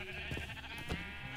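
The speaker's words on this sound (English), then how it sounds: "Sheep. Do they fight back?" A Minecraft sheep bleating in a short, quavering burst, fairly faint over steady background game sound, with no talk.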